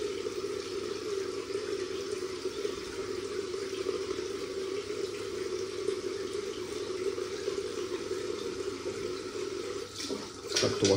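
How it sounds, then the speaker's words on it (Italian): Water runs steadily from a tap while soap is rinsed off, a constant moderate splashing rush that continues throughout, with a brief shift in the flow near the end. "Sciacquiamo il nostro bel King Sea"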